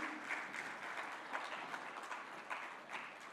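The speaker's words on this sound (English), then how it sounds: "a big round of applause to sir for that very stimulating address" Audience applause follows a keynote address at the Businessline MSME Conclave 2024: a steady, fairly faint patter of many hands clapping from start to finish, with no talk over it.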